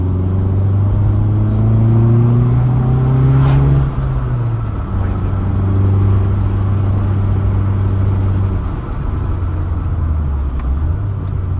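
An Audi S1 engine blips and revs in short presses, the pitch swelling then falling back toward idle a few times, loud and close with a low rumbling exhaust and no one speaking over it.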